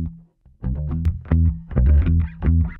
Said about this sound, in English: that gives us that nice plunky kind of funk bass